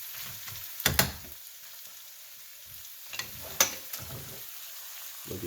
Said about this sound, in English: Now let's give our eggplant a little time to cook.